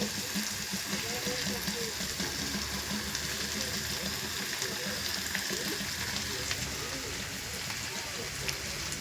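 Rohu fish pieces sizzle as they go into hot oil spiced with garlic, green chilli paste, turmeric and salt in a pan, a steady close crackle and hiss running throughout with faint background voices.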